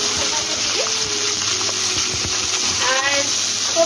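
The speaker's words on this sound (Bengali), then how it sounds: "কড়াইয়ের মধ্যে পেঁয়াজটা লাল লাল করে কিন্তু ভেজে নিচ্ছি আমি।" Onions fry in a wok with a moderate, steady sizzle and some splattering, close by, with background music and brief voices.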